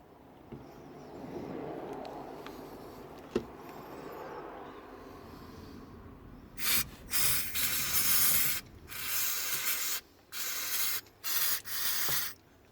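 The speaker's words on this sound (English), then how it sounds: "So we're just gonna spray it a little bit." Several quick hissing bursts of degreaser from a spray bottle, uneven in length, follow a stretch of quiet rubbing and shuffling noise during an oil change on a Jeep Grand Cherokee WK Hemi.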